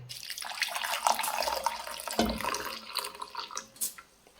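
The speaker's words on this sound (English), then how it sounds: "we're gonna need 1 cup of water, boiling water" Boiling water poured into a cup over ginger powder for a ginger tea, a close, steady splashing stream lasting a few seconds with a brief clink partway through.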